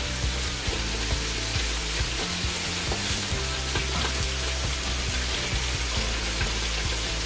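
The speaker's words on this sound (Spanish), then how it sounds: "Esto lo partimos a la mitad, vamos a asarlo." Halved tomatoes roast in a hot pan for an almond chicken dish, giving a dense, steady, loud sizzle with crackling spatters throughout and no voices.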